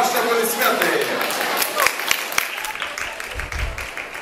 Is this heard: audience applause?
yes